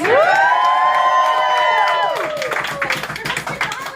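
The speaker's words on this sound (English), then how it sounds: "Everybody make some noise." A comedy show crowd erupts in loud cheering and shrill whoops, with clapping spreading underneath as the shouts fade toward the end.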